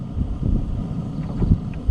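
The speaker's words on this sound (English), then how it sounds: "it's windy out there" Wind buffets the microphone in low, rumbling gusts that rise and fall steadily throughout, with no voices.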